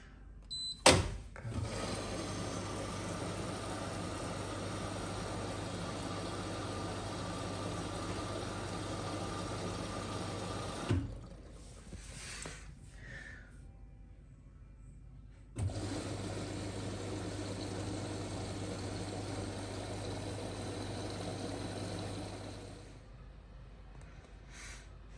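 A Hoover H-WASH 700 washing machine on its main wash gives a steady mechanical hum and churn, stopping briefly for a few seconds midway before starting up again at the same level, with no talk.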